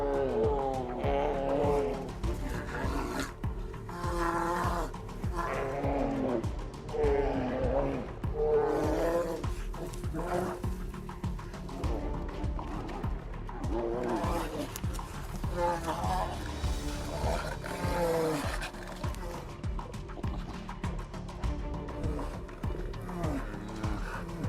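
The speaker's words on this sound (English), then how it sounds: "Powerful claw swings and loud roars demonstrate the dominant instincts of these giant" Polar bears fighting, roaring loudly amid powerful claw swings, their growls dense and continuous across the whole stretch, mixed with a narrating voice and a heavy background bed.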